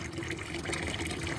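Homemade liquid fertilizer made from soaked tea leaves is poured and stirred into water, giving a steady close trickling and splashing sound with no talk.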